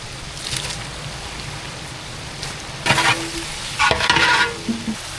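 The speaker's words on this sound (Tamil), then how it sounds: "வெங்காயம் தக்காளி எல்லாம் நல்லா வதங்கிடுச்சு" Onions, tomatoes and garlic sautéing for chicken biryani, a continuous close sizzle with a couple of louder bursts of stirring and scraping toward the end, no voices.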